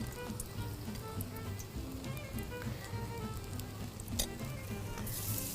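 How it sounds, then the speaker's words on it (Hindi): Potato and pea stuffed sandwiches deep fry in oil with a constant soft crackling sizzle, fairly faint and steady throughout, with a faint tonal hum underneath and one brief clatter. "ऐसे फ्राई किए जाएंगे।"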